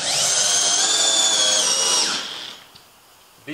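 Power drill driving a screw into wood framing while building a tiny house, a steady high-pitched whir lasting about two seconds before spinning down, followed by quiet and a faint tap.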